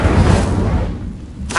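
A burst of magical fire from the Incendio spell in Hogwarts Legacy erupts at once as a loud, dense whooshing boom, then fades over about a second before another swell of noise begins.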